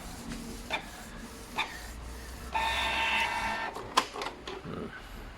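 A Canon inkjet printer with a faulty print head runs a print head test page, giving a few soft mechanical clicks, then a steady whirring carriage and feed noise for about a second and a half, ending in a sharp clack, close by and alone.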